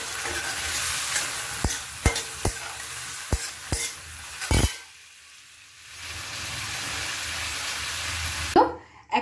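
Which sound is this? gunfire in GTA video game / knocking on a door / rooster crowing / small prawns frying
small prawns frying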